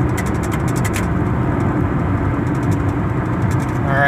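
A 1999 Ford Taurus engine pulls steadily while the car drives, a continuous low rumble blended with road and cabin noise at an even, fairly loud level throughout.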